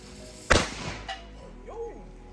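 A single sharp firework bang from a German-made FKF rocket or fountain, following its gold rain effect: one loud close burst that decays quickly, with a faint whistling tail afterward.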